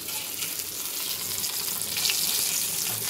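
Fish frying in a pan at home, a steady, close hiss of hot oil with a faint splashy texture running throughout without pause.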